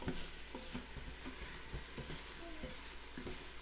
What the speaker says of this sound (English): So after sauteing this for a couple of minutes